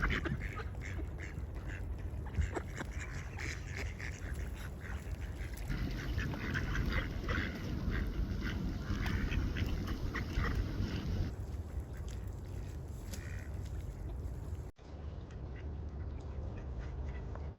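Ducks quack over and over from a flock outdoors, mixed with a constant wash of wind and background noise. The calls run through the whole stretch at a moderate distance, and the sound briefly cuts near the end.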